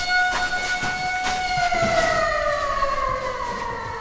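An air raid siren played in a children's quest room for practicing what to do during an air alert, a steady wailing tone slowly falling in pitch, loud and alone.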